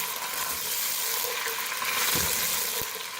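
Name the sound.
crushed onion frying in a pan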